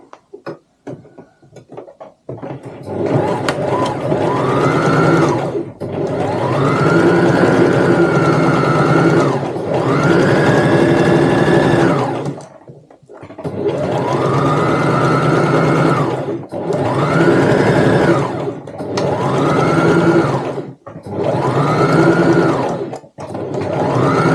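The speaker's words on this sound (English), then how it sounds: "you're just going to sew along the bottom here" A sewing machine stitches along the bottom seam of a fabric tote bag, running in several loud, steady bursts of rapid needle chatter with brief pauses between runs.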